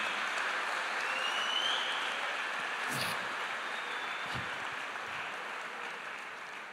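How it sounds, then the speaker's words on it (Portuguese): A church congregation applauds in a steady, continuous wash of clapping that fills the whole stretch at an even level, with no voices standing out. "dá um aplauso para essas mulheres lindas"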